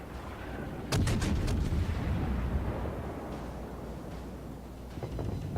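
A cruiser fires a naval gun salvo in the World of Warships game. A sharp cluster of booms lands about a second in, then a rumbling battle din continues and a fainter second volley follows near the end.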